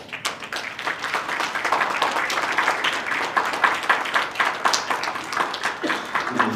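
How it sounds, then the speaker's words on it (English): A graduation ceremony crowd applauds the faculty steadily, many hands clapping in a dense, sustained wash of sound for several seconds. "Give them a round of applause."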